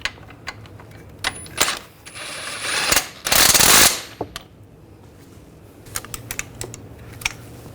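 Hand ratchet snugging down the front strut mount bolts on a 2009-2017 Volkswagen Tiguan, heard as quick clicking bursts and a longer rasping run of ratchet clicks, close and fairly loud, with scattered metallic taps around it.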